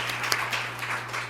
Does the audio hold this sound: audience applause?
yes